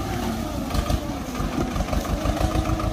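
A Swaraj 724 tractor engine runs steadily with a low, throbbing mid-range chug, close and continuous throughout, while working a field pulling a disc harrow.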